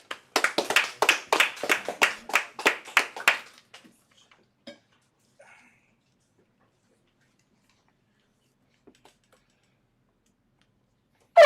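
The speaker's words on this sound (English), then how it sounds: "Let's clap it up." A small congregation at a Feast of Unleavened Bread closing service claps in unison for about four seconds, sharp evenly spaced claps near and clear, then a quiet room with a few faint clicks.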